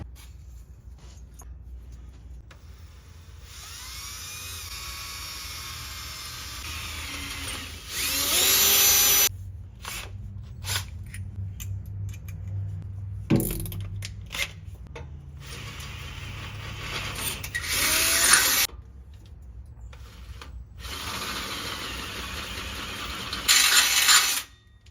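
A power drill whines in several bursts while drilling a hole in truck metal, steady high-pitched grinding with short pauses between runs, close by and fairly loud.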